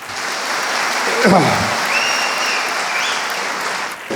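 An audience at a film-industry felicitation event applauds loudly and continuously, a thick sustained clapping wash with faint crowd noise mixed in.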